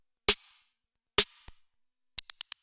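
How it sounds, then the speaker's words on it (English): Modular snare hits from a Micro Braids snare waveform, two sharp noisy cracks with brief bright tails, followed by a quick run of five shorter ticking hits, dry and fairly quiet. "I'm just using the snare waveform on micro braids,"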